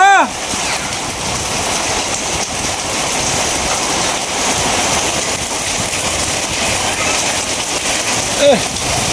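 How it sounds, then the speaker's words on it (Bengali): Heavy rain pours in a dense, steady hiss that fills the whole stretch, loud and close, with a brief voice at the start and near the end. "বৃষ্টির গতি এখন প্রচুর বাড়তাছে,"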